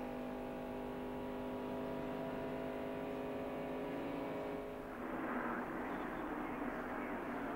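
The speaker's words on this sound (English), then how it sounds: "Hear him shifting gears just as much as he can wind it up" NASCAR stock car engine at Daytona in 1993, revving high and shifting gears: a steady whining drone that drops and turns to broader roar as the car passes, loud and close.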